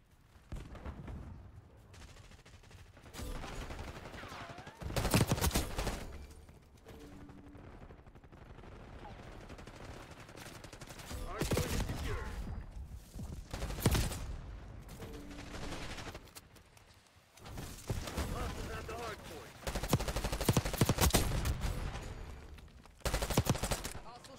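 Pistol and automatic gunfire in Black Ops 6 on the Babylon map in Hardpoint mode, with loud bursts of shots recurring every few seconds over continuous game noise.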